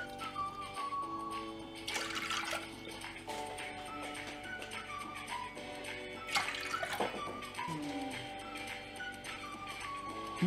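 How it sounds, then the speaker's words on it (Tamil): Water pours steadily into a metal pressure cooker, a continuous splashing rush with a brighter surge partway through, heard up close. "இதிலேயே வந்து 3 கப் தண்ணி ஆட் பண்ணிக்கலாம்"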